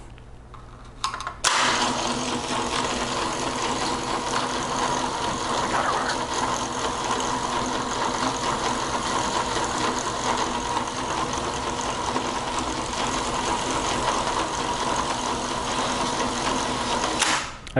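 LiftMaster BMT5011 gate operator motor with a rail extension, starting with a thump and running as a steady mechanical whir and hum, loud and close, before stopping at the end.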